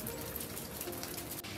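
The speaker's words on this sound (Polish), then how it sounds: "Dzisiaj nas znowu wita deszcz" Rain falling outdoors, a steady dense patter of drops at low volume, continuous and even throughout, with no talk.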